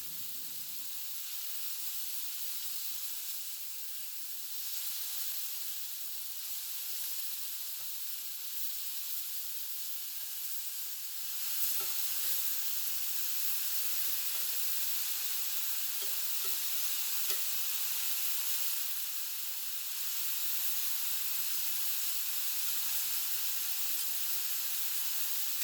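Steak bites sizzle steadily in a hot pan after flipping, giving a continuous frying hiss that grows slightly louder partway through. Faint stirring and clinks occur, and no one speaks.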